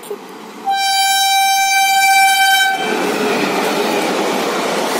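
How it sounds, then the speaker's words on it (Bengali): A loud train horn blares for about two seconds, then the steady roar and rattle of a passing train carries on. "আর একটা ট্রেন চলে এসে গেছে, ক্রসিং হচ্ছে।"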